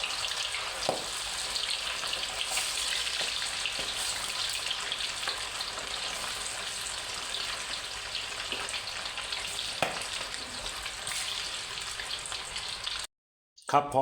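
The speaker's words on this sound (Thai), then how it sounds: "ทอดเลย" Continuous crackling sizzle of flour-coated catfish frying in hot oil, steady and close, with a few sharper pops before it cuts off near the end.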